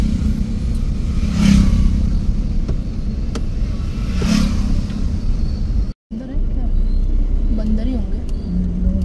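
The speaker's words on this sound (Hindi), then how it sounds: "कितनी बाइक जा रही देखो, सब साथ में।" Group of motorbikes riding past together on a road by a tiger reserve, a continuous loud engine drone with rising passes, under talk throughout.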